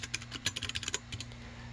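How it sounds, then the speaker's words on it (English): Rapid, uneven typing on a computer keyboard, a quick burst of close, crisp key clicks that trails off into a few scattered taps over a faint steady electrical hum. "I'm having a lot of troubles today with typing."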